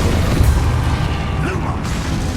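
Confringo spell blasts in the Hogwarts Legacy video game, on PS5: a dense, loud, continuous rumble of booming bursts and pops, with no clear gaps.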